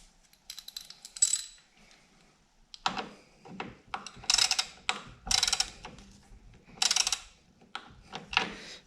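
Torx T40 driver tightening screws into plastic on a Harley-Davidson Touring motorcycle, a run of close, sharp ratcheting clicks in short bursts with pauses between.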